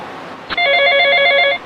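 A telephone bell rings once in a short, bright trill lasting about a second, close and clear over a quiet room.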